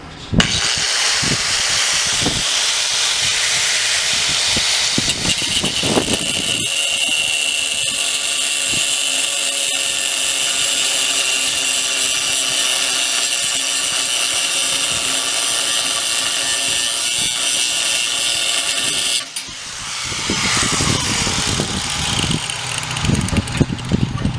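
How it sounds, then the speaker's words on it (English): An angle grinder cuts yellowed chrome parts off a Brinkmann Stillwater smoker during a restoration, a loud continuous high whine with grinding bursts, briefly dropping around nineteen seconds before cutting again. "use my handy dandy angle grinder and cut them off"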